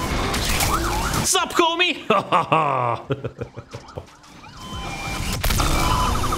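Police car siren in the racing game Need for Speed Unbound, wailing tones rising and falling repeatedly in a loud chase mix, briefly cut by a short shouted voice, then returning under continuous engine and game noise.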